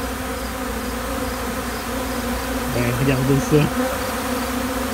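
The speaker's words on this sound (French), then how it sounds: "Ils commencent à avoir de l'abeille dehors." Many bees flying around outdoors near honey-producing roses, a steady layered buzz with a closer, louder insect hum passing by around the middle, and a brief spoken remark.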